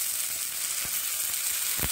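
Cholakuzhi paniyaram frying in a pan give off a steady, close sizzle, with a couple of soft clicks as the pieces are turned over.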